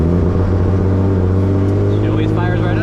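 A big-turbo Nissan 350Z idles with a steady, loud low rumble right after firing up, close and continuous, with a faint higher whine and some chatter near the end.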